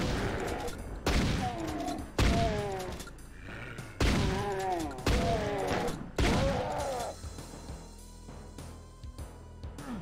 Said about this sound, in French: Oh, fusil à pompe.